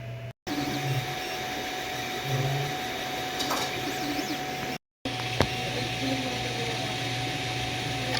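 A 3D printer works on a longboard brake part, its motors whirring in a steady close drone with faint tonal hums and a few short shifts in pitch, broken by two brief dropouts.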